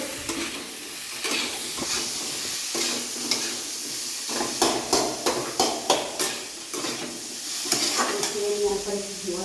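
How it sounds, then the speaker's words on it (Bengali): Taro greens with meat masala and sugar are sautéed in a pan, with a sizzle under repeated quick scraping strokes of a spatula against metal that fall into a rhythmic run midway, close and fairly loud. "চিনি দেবো দিয়ে ভালো করে কষিয়ে নেবো"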